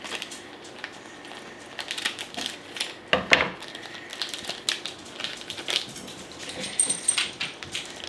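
A small package from an online order is cut open, with close crinkling and rustling of plastic wrap and a few sharp snips and scrapes in a busy, irregular texture, with no talking.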